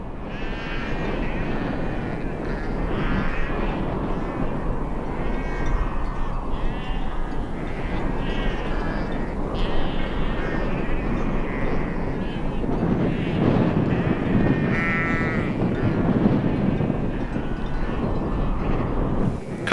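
A large herd of sheep bleats continuously on a Wyoming ranch, with many overlapping calls near and far blending into a dense wash of bleating that carries on for the whole stretch.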